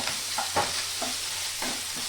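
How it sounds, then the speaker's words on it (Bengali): Soaked soybean chunks with a little turmeric and salt fry in a pan, a steady close sizzle broken by several scraping stirs of a spoon. "এখন আমি সয়াবিনটা ভেজে নেব।"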